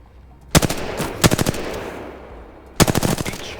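Three loud, close bursts of rapid automatic weapon fire in the Apex Legends video game, each a quick string of shots separated by short pauses.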